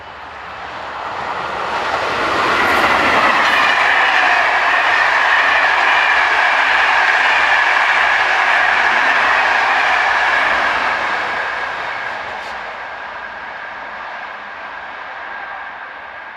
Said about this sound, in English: Another commuter train, this time a service for Liège, is top and tailed by 2713 and